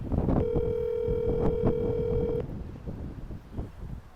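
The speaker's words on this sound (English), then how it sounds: "Call Brian on speakerphone." Speakerphone call going out: a steady electronic ringback tone sounds for about two seconds, then gives way to low rumbling background noise.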